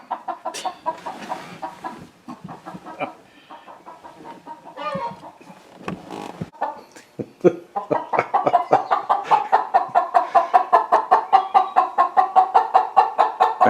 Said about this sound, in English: I have a chicken in my garage now.